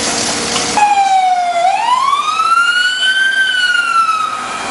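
A fire engine siren wails loud and close at a clothing store fire in Panadura town, one long sweeping tone that drops, rises again and holds steady, filling the whole stretch with no talk over it.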